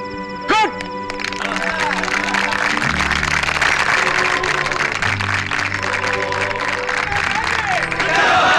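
Crowd clapping in a film scene: continuous applause fills the room while dialogue and background music sound over it, with a short tonal sweep near the start.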